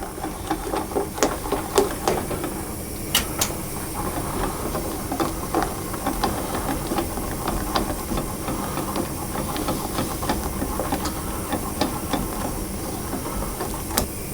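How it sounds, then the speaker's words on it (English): Custard being whisked constantly in a pan on the heat as it comes to a boil and thickens, giving a steady close scraping and hissing texture with repeated small clicks of the whisk. "I will whisk it all the time until it comes to a boil and thickens"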